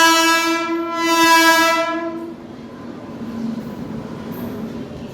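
Train at Kacheguda station sounding a loud, sustained horn for about two seconds, then a steady rumble and clatter of cars rolling past.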